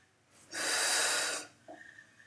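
One close, forceful breath, sharp and airy, held for nearly a second during a supine plank exercise, followed by a softer exhale in a quiet room.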